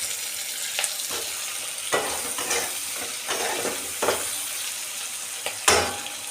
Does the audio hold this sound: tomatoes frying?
yes